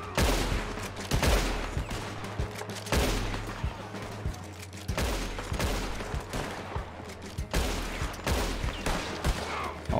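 Rapid bursts of gunfire from the Red Dead Online video game crackle in repeated volleys across ten seconds, loud and dense with brief gaps, no talking over them.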